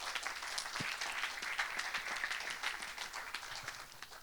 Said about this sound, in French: Est-ce qu'on peut acclamer pour cette grâce?